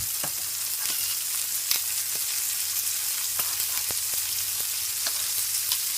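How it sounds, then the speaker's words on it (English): Shrimp sizzle steadily in a hot frying pan for shrimp fried rice, with a constant crackling hiss punctuated by sharp clicks and scrapes as they are turned. "So now I'm gonna turn my shrimp now."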